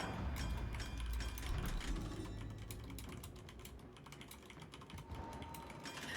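Fast keyboard typing during a competitive online match, rapid clattering keystrokes running continuously over a dense background of game sounds and low rumble.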